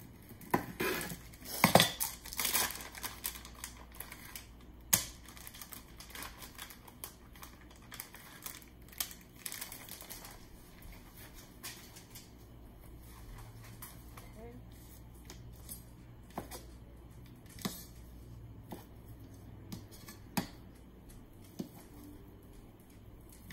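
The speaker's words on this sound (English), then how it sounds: "now we're going to chop up 4 strips of bacon" A knife chops four strips of bacon on a cutting board in a home kitchen, making a series of close, irregular taps and clacks, heaviest at the start and then lighter and sparser, with occasional talk underneath.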